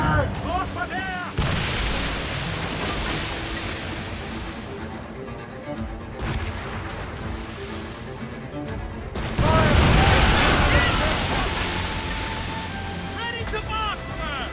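A sailing ship fires its cannons in the video game Assassin's Creed Rogue. Heavy booms cut through constant ocean wash and surf, with a big burst of blasts near the end. Shouting crew voices are heard throughout.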